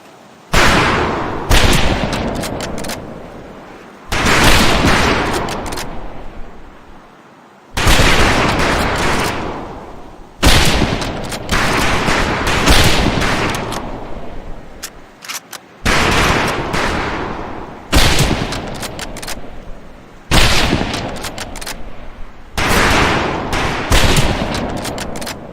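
Rifles fire at an outdoor shooting range, with loud, sharp cracks in quick irregular volleys, sometimes overlapping, broken by brief pauses and spread across the whole stretch.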